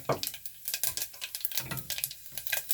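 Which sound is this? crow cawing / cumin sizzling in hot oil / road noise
cumin sizzling in hot oil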